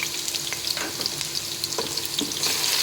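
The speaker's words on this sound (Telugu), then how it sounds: "అలా ఫ్రై అవుతూ ఉండగానే మనం అల్లం పేస్ట్ వేసుకున్నాం." Onions frying in hot oil with cinnamon, bay leaf, cloves and cardamom, a steady close crackling sizzle with occasional scraping stirs, fairly quiet and with no voices.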